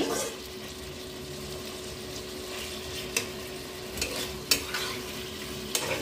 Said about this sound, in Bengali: মিশিয়ে দেওয়ার পরে চিকেনটাকে অল্প একটুখানি কষিয়ে নিয়ে